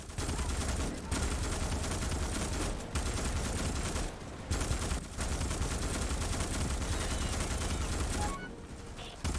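Grenade launcher firing in a video game, dense sustained bursts of loud explosive gunfire broken by a few brief pauses, with a voice faintly present underneath.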